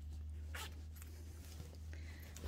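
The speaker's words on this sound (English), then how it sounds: "I test the zip to see if the zip working well or not." A zipper on a school uniform dress is pulled to test it during sewing, giving two quick, faint zipping rasps over a low steady hum.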